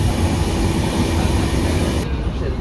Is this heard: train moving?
yes